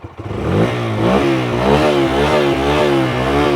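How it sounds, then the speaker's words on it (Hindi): A Bajaj CNG motorcycle running on petrol starts quietly and settles into a close, loud idle, its exhaust note pulsing in a steady throbbing rhythm with slight rises in revs. "आइडियल कंडीशन पर इंजन साउंड सुनो, एग्जॉस्ट नोट।"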